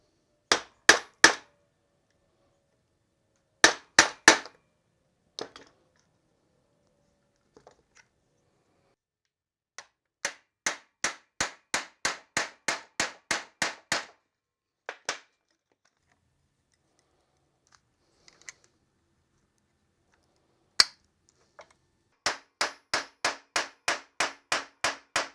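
Metal hammer striking a tapered roll pin into a custom Porsche brake pedal box: bursts of sharp, rapid taps in quick runs of up to a dozen strikes, separated by pauses, loud and close with no talking.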